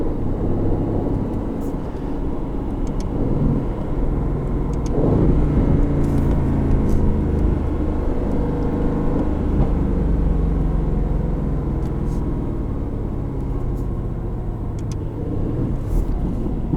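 A 2020 Aston Martin Vantage in track mode with a deep, rumbling engine note that swells under acceleration, loud and sustained from inside the cabin, with faint clicks over the drone.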